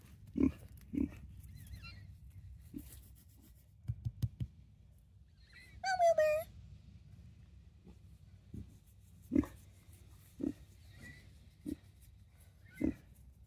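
Homestead pigs give scattered soft grunts and snorts over a quiet outdoor background, with one louder squeal in the middle.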